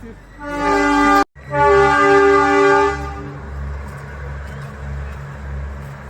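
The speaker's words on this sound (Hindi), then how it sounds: "पीछे ट्रेन का बहुत शोर हो रहा है" A train passing close by near Matheran sounds a loud horn, cut off briefly and then resuming, before the horn gives way to rhythmic clattering of wheels over the rails.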